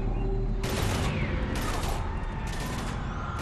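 Three separate bursts of automatic gunfire ring out in the PC game Mass Effect 3, each lasting about a second, over a constant low rumble and mechanical clatter.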